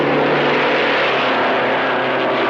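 A 1950 Alfa Romeo Grand Prix race car at Silverstone, its engine roaring loud and close in a sustained, steady blare throughout.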